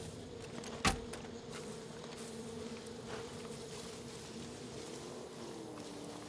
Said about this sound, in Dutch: Ook allemaal bijen hier.